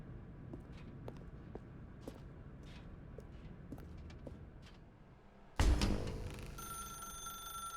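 In The Stanley Parable, a few quiet footsteps cross a room before a telephone suddenly starts ringing, loud and close. Its bright, sustained bell tone fills the last two seconds.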